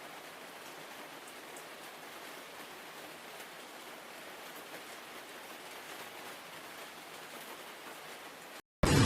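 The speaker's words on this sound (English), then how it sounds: "windows rattled violently as wind and rain battered everything in their path" Heavy rain pours steadily during flooding in China, a dense continuous hiss with wind, unbroken for several seconds before a brief silence and an abrupt loud cut at the end.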